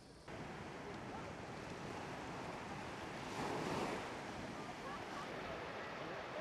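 Sea waves wash onto the shore of the Dilek Peninsula in Turkey, a continuous soft surf hiss with wind buffeting the microphone and a brief swell of breaking water midway.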